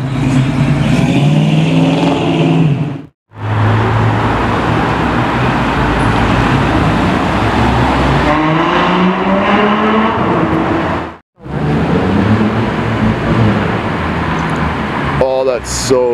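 A McLaren 765LT launches under launch control on a street, its engine roaring loud and close with rising pitch through rapid gear shifts, traffic around it, and voices shouting over the din.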